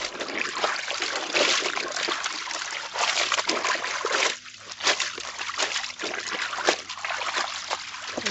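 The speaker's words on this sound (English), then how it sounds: "It's rinse time." Colored clothes rinsed by hand in water, with continuous sloshing, splashing and dribbling that swells and eases in uneven waves, close and fairly loud, with no talking.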